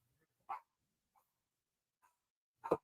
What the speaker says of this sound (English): We're just going to have a bark fest.